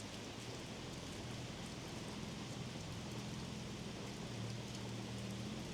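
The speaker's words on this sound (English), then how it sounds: "It's still absolutely pouring down" Heavy rain pours down in a constant dense hiss, steady throughout with a faint low hum beneath.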